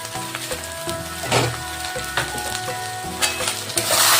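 Hot oil sizzles steadily while chili powder goes into a pan of cooking lote fish, with stirring scrapes and a crackle that flares up as the spice lands, close and fairly loud.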